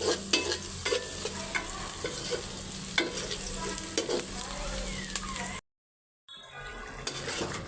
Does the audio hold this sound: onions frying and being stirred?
yes